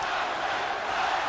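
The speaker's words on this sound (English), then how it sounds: "The crowd is turning." A boxing arena crowd in a Tyson versus Holyfield fight roars and yells together, a dense loud wash of many voices filling the brief moment.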